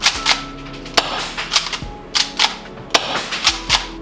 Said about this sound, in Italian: Il fucile quindi è pronto a sparare, vediamo come spara.